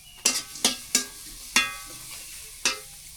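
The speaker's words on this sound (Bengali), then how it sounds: "কাঁচা মরিচ আর পেঁয়াজটা তেলে হালকা করে ভাজা নিই আগে" Green chilies and onion frying lightly in oil in a pan, with five sharp scraping stir strokes at uneven intervals over a faint, quiet sizzle.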